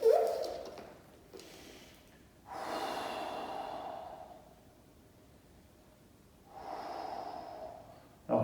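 Slow, steady breaths drawn in and let out during a seated stretching exercise in a joint-protection fitness class, with several long airy exhalations and inhalations close to the microphone and no talking.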